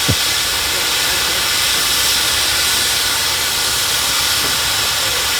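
A steam ploughing engine at a ploughing match gives off a loud, continuous hiss of steam close by, broad and unbroken for several seconds, with a brief knock at the very start.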